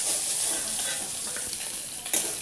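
Tengra fish frying in hot oil, a steady dense sizzle and crackle held throughout with a brief louder spatter near the end, no voices.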